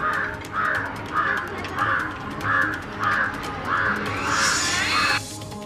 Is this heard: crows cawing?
yes